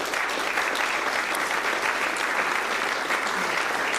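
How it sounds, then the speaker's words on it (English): Steady audience clapping fills the space after a political speech, a continuous dense patter from a large crowd at even loudness throughout, with no clear voices on top. "keep your claps to yourself"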